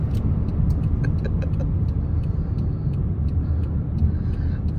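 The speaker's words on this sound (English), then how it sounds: "This is Friday afternoon traffic in Memphis." Friday afternoon city traffic in Memphis: a continuous low rumble of passing cars and engines, with faint ticks and a brief brake hiss in the background.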